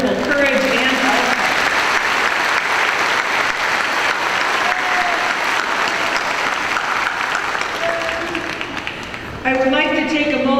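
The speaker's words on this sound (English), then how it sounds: "So please help me to applaud them for their wonderful courage and eloquence." Sustained, loud applause from a graduation audience at a 2016 JGHS ceremony fills the hall steadily for about nine seconds, easing slightly before a brief dip and a final renewed burst near the end.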